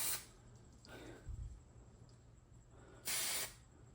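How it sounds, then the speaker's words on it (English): Hissing bursts from an Eastwood 2K Aero epoxy primer spray can with an adjustable fan nozzle, used to prime a classic car: a loud spray burst at the start, a softer one near one second, and a strong burst near three seconds, over quiet background. "you can adjust the fan width on a spray paint can"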